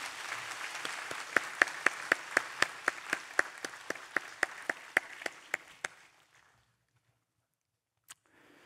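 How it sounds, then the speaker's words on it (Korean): A church congregation at an afternoon service claps to welcome lay missionaries, starting as brisk, dense applause and settling into slow, strong unison beats roughly twice a second. After about six seconds the clapping stops abruptly, leaving near silence broken by one faint knock. "다 같이 환영과 격려의 박수 부탁드립니다"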